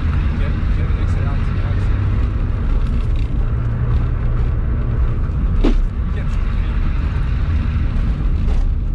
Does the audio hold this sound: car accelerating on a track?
yes